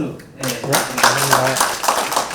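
An audience at a lecture on ocean colour and satellites claps for the lecturer, a dense patter of applause running under someone speaking over it.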